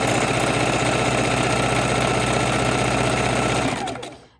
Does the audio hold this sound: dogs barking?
no